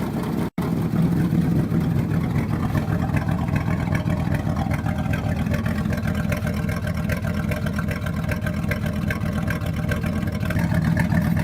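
An old yard truck engine idles after a cold start, a loud steady rumble running throughout with a slight shift in tone partway, close by and without talk.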